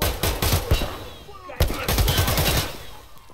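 Bursts of gunfire in Escape from Tarkov, a dense stretch of rapid automatic shots followed after a short lull by another volley, loud and close, with a voice speaking briefly in places.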